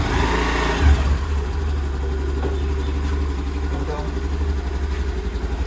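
A motorbike or scooter engine idling close by, a steady low rumble that holds throughout with a brief rise near the start, while someone talks over it.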